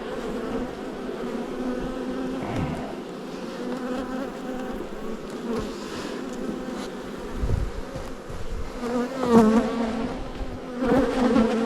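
Honeybees buzz continuously around beehive honey supers at a mountain hut apiary, a close, dense hum that swells and dips as individual bees fly near, with no talking.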